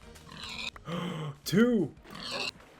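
Pigs in Minecraft Beta 1.7.3 give a few short, close oinks and grunts, with a person talking briefly alongside them.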